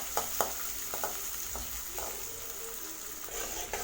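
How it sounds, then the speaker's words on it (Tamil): Small onions fry with cinnamon, cloves and cardamom over a medium flame for a mutton curry, holding a soft, even sizzle while a spoon scrapes and taps now and then. The sound is close but fairly quiet, and no one speaks. "ஆட் பண்ணிவிட்டு வெங்காயம் வதங்கட்டும்"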